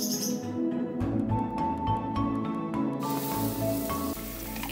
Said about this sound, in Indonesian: Saya mau tumis bumbu yang sudah saya blender tadi.